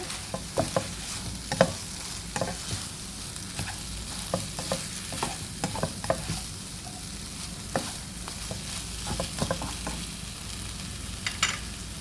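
Glass noodles and vegetables stir-fried in a pan with tomato, a steady sizzle of frying under repeated scraping and tossing strokes from a utensil, close and continuous with no talking.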